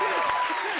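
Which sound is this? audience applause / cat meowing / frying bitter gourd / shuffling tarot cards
audience applause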